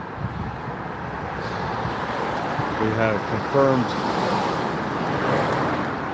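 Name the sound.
passing cars, traffic noise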